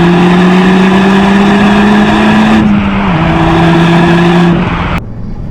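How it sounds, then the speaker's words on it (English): Exhaust note of a 2019 Renault Megane RS Trophy in race mode, a loud, steady, close engine drone with a shift in pitch midway, then a sharp cutoff near the end. "that exhaust note is absolutely epic"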